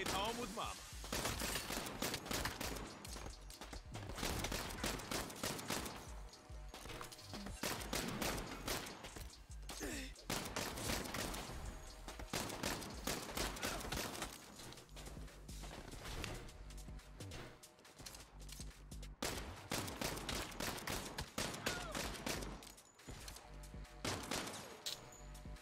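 Rapid gunfire fills a Saints Row firefight, dense bursts of automatic shots and heavy blasts rattling almost without pause, with a voice talking over the shooting now and then.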